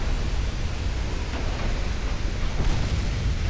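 Wing turrets blowing up in a space-combat video game: a steady, dense roar of rumbling explosion noise that fills the whole moment without a break, loud and close.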